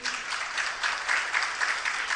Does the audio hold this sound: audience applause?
yes